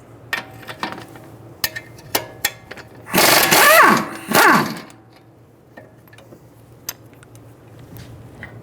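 A wrench and 22mm socket work a nut off a strut bolt on a 2007-2011 Toyota Camry: scattered metallic clicks and taps, then two loud ratcheting bursts around the middle, followed by more sparse clinks.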